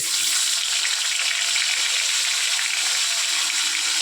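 A hilsa fish head coated with turmeric and salt fries in oil with five-spice (panch phoron), producing a loud, close, unbroken hissing sizzle throughout, with no voices.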